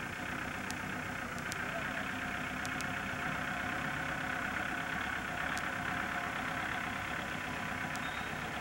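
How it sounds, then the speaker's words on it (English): A tractor engine runs steadily at a distance in a rural Michigan setting, a constant low rumble with faint background hiss and no talk. "Is that Jason driving that tractor with Uncle Larry's?"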